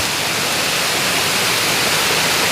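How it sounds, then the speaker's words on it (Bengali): A waterfall on Parasnath hill in Jharkhand pours down from high above in a loud, dense, unbroken roar of cascading water, close by, with no voices. "ঝর্ণাটা একদম উপর থেকে চলে আসছে, উপর থেকে চলে আসছে"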